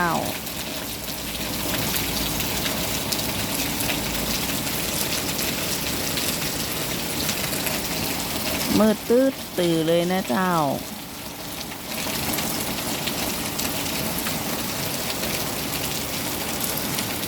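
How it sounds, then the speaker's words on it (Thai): Steady all-night rain pours down without letup, a dense hiss of drops on surfaces, with someone talking briefly in Thai partway through. "นอนฟังเสียงฝนตึงคืนเลยนะเจ้า ตกสม่ำเสมอ"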